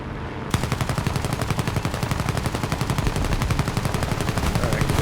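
Twin machine guns of a Fiat C.R.42 biplane in War Thunder firing at a Do 17 bomber: a loud, continuous rapid rattling burst that starts abruptly and runs unbroken for several seconds over engine drone, with no talking.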